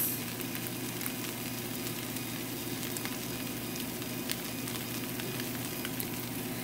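Soy sauce sizzles loudly in a hot pan on an electric stove, a steady close hiss with small crackles running throughout.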